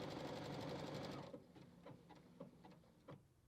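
A Brother Stellaire XJ2 sewing machine stitching a taper, a fast steady whirring stitch that stops after about a second, followed by quieter mechanical clicks and ticks.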